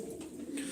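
Soft, steady cooing from purebred Sivas pigeons fills a brief moment, a low throaty murmur heard close up with no voices over it.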